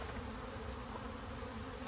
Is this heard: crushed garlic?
no